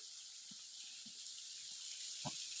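A waterfall pours as a soft, constant rushing hiss with a few faint low thumps scattered through it, and no one speaks.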